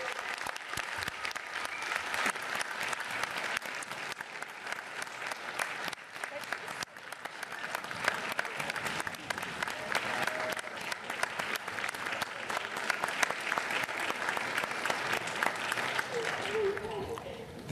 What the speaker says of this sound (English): let's give her a round of applause for her 70th birthday